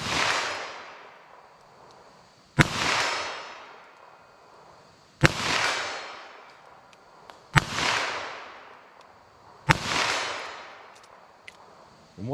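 Five loud, sharp shots from a .22 Magnum revolver firing Winchester Super-X ammunition, spaced about two to three seconds apart outdoors, each crack followed by a long fading echo.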